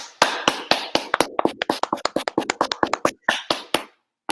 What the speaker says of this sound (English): let's open our mic and give them a big applause to conclude this session